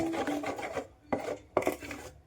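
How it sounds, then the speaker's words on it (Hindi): Spoon scraping and stirring hot sesame and jaggery syrup on a plate as it cools: close, gritty rasping strokes, a long one followed by two sharp, separate scrapes. "तो इस तरह से हम लगातार चलाते रहेंगे और इस सिरप को हम ठंडा करेंगे"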